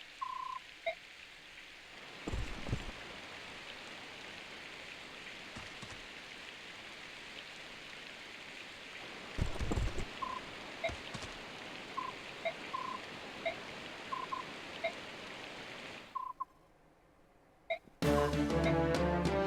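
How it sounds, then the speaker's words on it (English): Steady rain hisses for nearly twenty seconds in the video game Fire Emblem, a constant even wash with small beeping menu sounds and a few thumps over it, then it cuts off abruptly before music starts. "How does rain slow your whole army down?"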